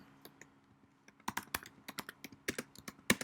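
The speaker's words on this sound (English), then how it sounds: "So I would just start typing" Keys clatter on a computer keyboard in a quiet room, starting with a few isolated taps and building into an irregular run of close, crisp clicks without speech.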